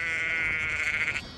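A single ewe bleats in a field during lambing season at Tarascon: one drawn-out, wavering bleat lasting just over a second, fairly close and clear against a quiet outdoor background.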